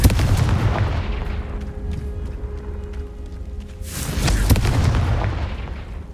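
A Confringo spell blast in Hogwarts Legacy bursts as a loud booming explosion that fades into a low rumble, then a second heavy blast with sharp cracks hits a few seconds later.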